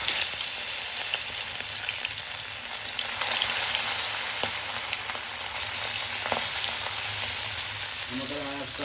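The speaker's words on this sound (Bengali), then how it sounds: "এখন মাছটা ভেজে নেব।" Pieces of bata fish rubbed with turmeric and salt fry in hot oil, giving a loud, dense, steady sizzle like heavy rain, with a few clatters toward the end.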